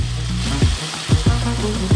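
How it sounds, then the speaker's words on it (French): A kitchen blender grinds nuts for a giant homemade Ferrero Rocher, a loud, steady whirring roar with rhythmic surges as the contents churn. "On met tout ça dans le mixeur et on broie."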